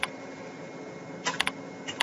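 A few faint, quick keystrokes on a computer keyboard break a low quiet hum near the end, spaced irregularly like a short command being typed.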